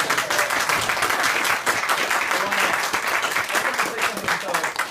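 Dense, continuous clapping from a sizable audience, loud and sustained throughout without letting up.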